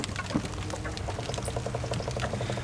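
Brake fluid flowing through a fitting while bleeding the ABS brakes on a Jeep WJ, a soft steady liquid trickle with a faint rhythmic bubbling patter, close and alone with no talk.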